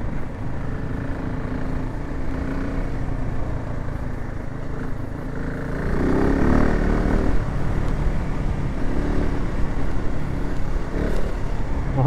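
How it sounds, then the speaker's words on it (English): A KTM 690 Enduro R motorcycle rides a gravel forest road, its engine a loud, continuous drone with wind rush, rising slightly in intensity partway through. "it feels very easy to ride this forest road with this one."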